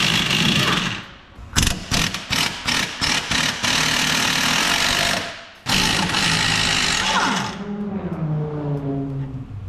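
A power tool hammers at a bolt on the suspension of a Dodge Challenger R/T during a lowering spring install, giving a quick run of loud rattling bursts with brief gaps, then a sustained run.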